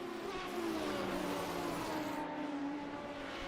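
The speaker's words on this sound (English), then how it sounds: "those SR8s, they sound like race cars, man. That is what you want to hear of a car screaming by you there." Radical SR8 race cars scream past on the track at Watkins Glen, a loud, sustained high-pitched engine roar with a slight falling pitch as they go by, no talking over it.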